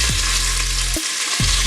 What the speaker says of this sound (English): By searing the short ribs